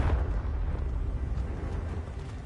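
A Confringo fire-blast spell explodes in Hogwarts Legacy, a soft low burst at the start trailing into a rumbling, fading roar, heard alone and moderately quiet.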